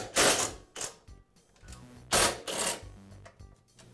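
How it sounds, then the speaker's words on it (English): Bolts being loosened and removed from the deck of a Husqvarna lawn mower with a hand tool: two bursts of close metallic ratcheting and clicking, separated by short quiet gaps. "I'll remove the bolts."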